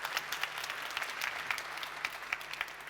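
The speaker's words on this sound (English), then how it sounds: "I like how everybody just clapped without even knowing what it's like." A conference audience claps for a speaker who has just announced a software release, a soft, fairly distant patter of many hands that holds steady for the whole stretch.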